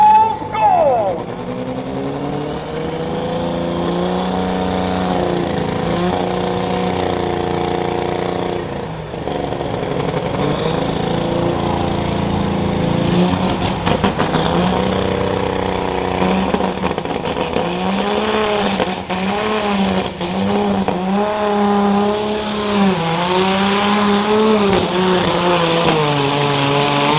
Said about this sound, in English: Here comes the Pro Stock, gasoline powered, Fool's Gold.